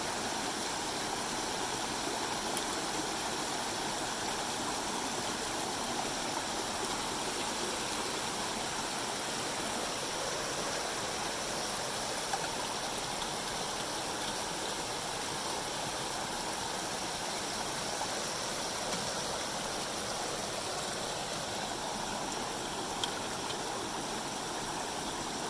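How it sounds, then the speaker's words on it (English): A mountain creek in the Smoky Mountains rushes and splashes over rocks, a continuous broadband roar that stays steady and even throughout, fairly close, with no voices. "Look at that creek that we passed not too long ago"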